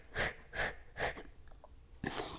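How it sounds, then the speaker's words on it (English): Forceful breaths pushed out through the mouth during a beginner yoga fat-burning stretch, three sharp, close exhales in steady rhythm, a pause with faint sounds, then a fourth breath. "Bend the knees here and reach forward and exhale through the mouth."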